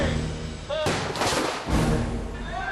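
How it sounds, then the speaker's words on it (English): Stunt explosions on a film set go off in a couple of loud, sharp broadband bursts, each followed by a roar, over a background murmur of voices. "The explosions go off, and these guys are engulfed in flames"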